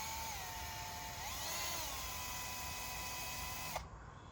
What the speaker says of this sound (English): He's chucking the other end up in a drill and